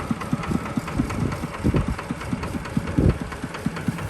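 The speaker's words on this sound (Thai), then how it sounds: "เป็นรถไถนะครับ" A tractor engine idles with a steady, rhythmic low knocking chug, fairly close and even throughout.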